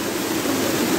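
Water from the Lago Azul lagoons at Alcaçuz pours out in a small waterfall, a dense, steady rushing roar heard close and loud with no voices.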